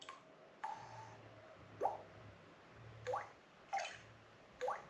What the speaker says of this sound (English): this sounds like a water droplet